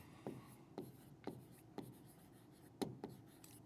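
A marker or chalk writes on a board in a physics and chemistry lesson, making six short separate strokes with pauses between them against a quiet room.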